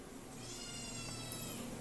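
A cat meowing and grumbling indoors during knife sharpening on a Japanese whetstone, a short drawn-out complaining cry heard alone at moderate distance.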